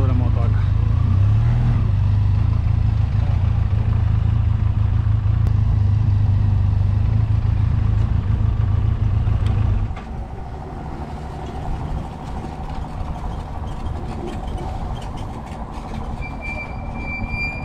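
A loud, low motorcycle engine drones steadily, then cuts out abruptly partway through, leaving a quieter rumble and background noise.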